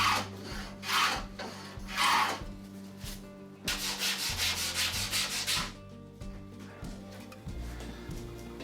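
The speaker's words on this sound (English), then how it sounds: "now I'm using this old belt from a belt sander to take off all the small little edges left" A wooden skiff oar being hand sanded with an old belt-sander belt, bursts of rough rubbing strokes in uneven rhythm, close, with quiet pauses between.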